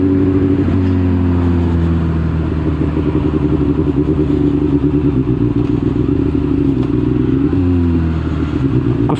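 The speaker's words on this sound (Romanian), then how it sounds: "Cu scuterul pe trecerea de pietoni." A scooter engine buzzes loudly up close while riding through city traffic toward a pedestrian crossing, its pitch shifting as the throttle rises and falls, with no speech.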